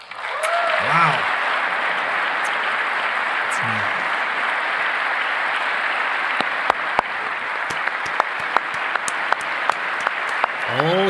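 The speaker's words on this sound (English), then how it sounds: "They want to clap for him." Sustained applause fills the chamber of Congress during the 2018 State of the Union, a broad, steady wash of clapping under commentators talking over it, with a few sharp claps and an exclamation.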